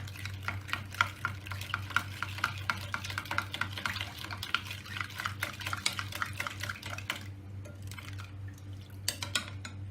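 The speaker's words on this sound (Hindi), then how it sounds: "शुगर पाउडर डालेंगे, और इनको अच्छी तरह मिक्स कर लेंगे ज़रा।" Fruit chaat being stirred with powdered sugar in a bowl, a steady run of quick scraping and clinking strokes at close range under a constant low hum, with a brief lull near the end before a few more strokes.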